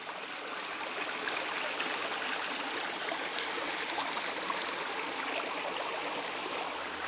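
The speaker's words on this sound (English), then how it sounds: "But there's water in the river or the creek in the forest" Water in a forest creek in Monrovia Canyon Park flows in a steady, unbroken rush, close and full, with no voices or other sounds over it.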